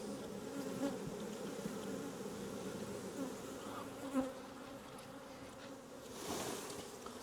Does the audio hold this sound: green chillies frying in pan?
no